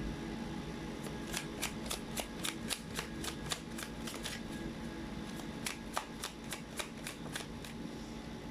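Tarot cards are shuffled and pulled, a long run of crisp rapid riffling snaps repeating in quick bursts close to the listener, with no talking.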